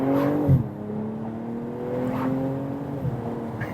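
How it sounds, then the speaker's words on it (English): The exhaust of a BMW M240i revs up and then settles, a rising engine note falling back to a steady drone at moderate distance, without talk. "the exhaust sounds well nice"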